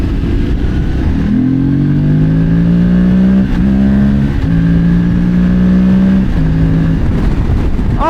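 A Morbidelli T1002VX twin-cylinder 1000 cc motorcycle engine revs up in several rising pulls, loud and close, each climbing in pitch before easing off, over a steady idle rumble.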